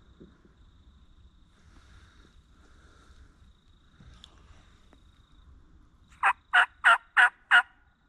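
A wild gobbler in the Georgia woods on opening day sounds off with a quick run of five rattling gobbles near the end, fairly close and clear over faint wind and ambient outdoor noise.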